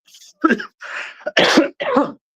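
A run of harsh, throaty coughs, five or six bursts in quick succession, close and fairly loud, with short pauses between.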